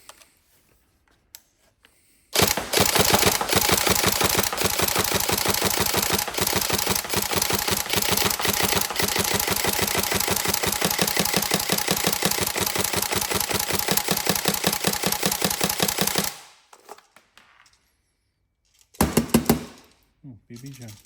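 A Tokyo Marui SCAR-H Next Gen electric airsoft rifle fires a long, loud, close full-auto burst of rapid mechanical cycling lasting about fourteen seconds, followed by a brief second burst.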